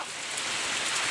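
Heavy rain pours down steadily during an outdoor picnic, a dense, continuous hiss of drops hitting surfaces, loud and unbroken throughout.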